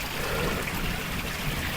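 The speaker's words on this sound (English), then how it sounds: "The water running full now from the filter." Water runs steadily from a garden pond filter, a soft constant trickle and splash at close range with no voices.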